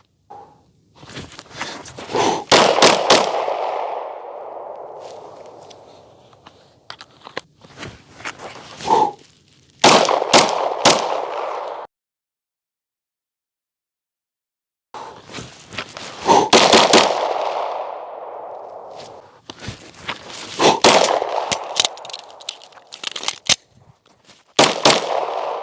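Sharp gunshots from a shooting drill at a target crack out in quick clusters, each volley followed by a short ringing tail, with a silent gap midway before more bursts resume, close and loud.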